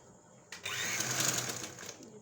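A sewing machine runs a steady stitching burst for about a second and a half while stitching seedless gum slime, starting abruptly and fading out, with no talking over it.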